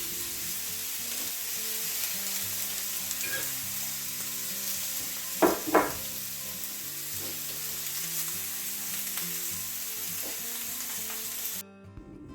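A ribeye steak sears in a pan with a steady, close sizzle and crackle, broken by two sharp clicks midway, before it cuts off abruptly at the end.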